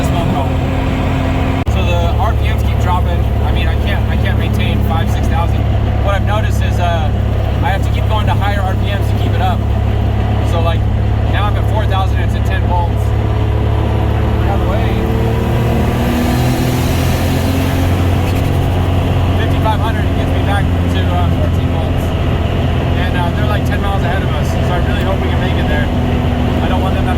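Drift car engine droning steadily in 4th gear while its revs sag, a loud continuous low hum with a tone that slides downward partway through, under ongoing talk inside the cabin.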